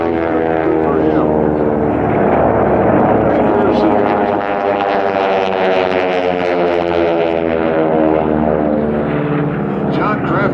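T-6 racing airplanes roar past close by at a race, including Big Red and the Gunslinger, with a loud, steady propeller-engine drone that holds for the whole stretch.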